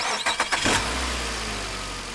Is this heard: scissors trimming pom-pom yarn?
no